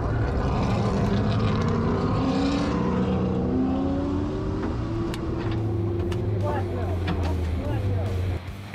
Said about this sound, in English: You can hear some cars going around.